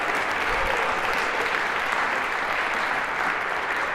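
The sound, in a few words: audience applause for lecture volunteers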